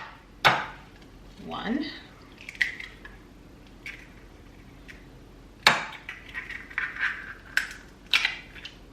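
Two eggs cracked against a hard edge into a bowl holding vegetable oil, heard as two sharp taps several seconds apart followed by soft wet drips and small clinks, with a voice counting.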